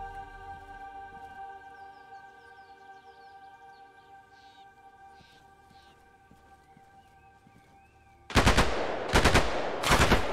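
Two heavy bursts of machine gun fire from an MG nest in the Arma Reforger battlefield, loud and close after a stretch of quieter ambient game sound with faint birds and tonal hum.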